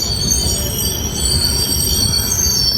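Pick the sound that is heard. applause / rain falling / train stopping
train stopping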